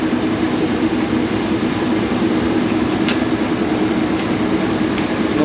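A Maytag clothes dryer's drum spins after its broken drive belt was replaced, giving a loud, steady mechanical rumble with a faint rhythmic clatter and no speech.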